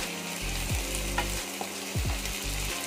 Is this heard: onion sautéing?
yes